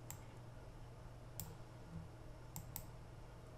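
Computer mouse clicks during PixInsight mask editing: four sharp, quiet clicks spaced irregularly over a steady low hum, with no talking.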